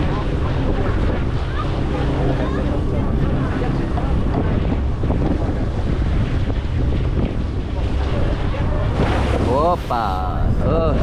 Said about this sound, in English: we're heading out to more open water, so the waves are going to be a little bit bigger now